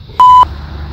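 A metal detector gives a single loud, clear electronic beep, roughly a quarter second long, as it passes over a button buried in the ground. A low outdoor rumble sits underneath.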